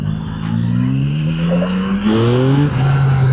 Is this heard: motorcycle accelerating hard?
yes